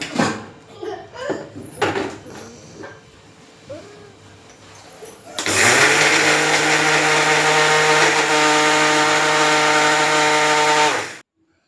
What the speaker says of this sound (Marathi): आता मिक्सरमध्ये टाकून बारीक करून घेते मिक्सरमध्ये.